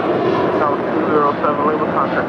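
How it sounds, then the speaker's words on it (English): A Boeing 767-300ER freighter in new cargo livery spools up its jet engines at LAX, a loud, steady broadband roar that swells slightly through the clip, with faint voices underneath. "We do have Moss Air Cargo with the brand new livery on a 767-300ER lighting up"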